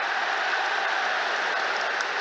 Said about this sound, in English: Big cheer from the Amex crowd as Anthony Taylor gives the Albion a chance to take the free kick